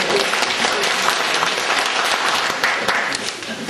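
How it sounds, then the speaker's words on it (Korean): Audience applause at a Seoul history and culture forum visit to Bonghwanggak, a steady dense round of clapping from a crowd, fairly loud and sustained throughout without pause. "박수 한번 다시 한번"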